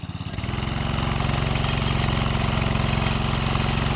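A mini go kart engine revs steadily after a brief start, its loud, rough, pulsing drone holding close and alone without talk.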